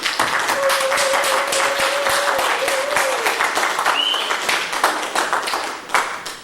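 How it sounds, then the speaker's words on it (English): A conference audience gives a round of applause to welcome a speaker, sustained crowded clapping that gradually thins and tapers off toward the end, with a faint tone and scattered voices underneath. "Can you bring up with a round of applause?"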